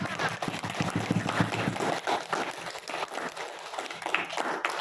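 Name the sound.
classroom applause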